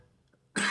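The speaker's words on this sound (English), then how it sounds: "how convenient, also the coughing" A single sudden cough from a person with stage 4 cancer undergoing radiotherapy, bursting loudly out of near silence at the very end.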